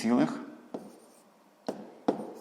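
A pen writes down a decimal answer during a sixth-grade maths exercise, giving a few short, soft scratches and taps spaced apart, with a brief voice at the start.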